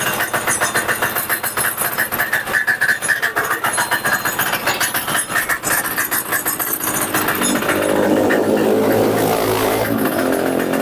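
A farm cultivator's small engine runs steadily and loud as its clutch is slowly let out from neutral, the chugging tone thickening toward the end as the machine takes up load.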